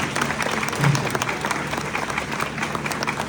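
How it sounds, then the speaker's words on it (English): An audience at a first-grade graduation ceremony applauds the staff in steady, dense clapping that carries through the whole moment, with a voice faintly audible beneath it. "Let's give them a round of applause, please"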